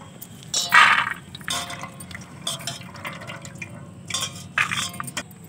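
Vegetables are rinsed in a vessel of water in a home kitchen, with splashing, sloshing and dripping in uneven bursts, close and fairly loud, with no talk.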